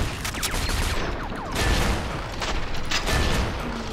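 Bursts of gunfire and heavy shotgun blasts from a John Wick simulator video game, rapid and loud, in dense clusters with a booming low end throughout.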